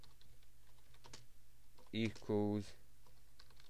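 Code is typed on a computer keyboard in Visual Basic 2010, with scattered quiet key clicks under someone talking.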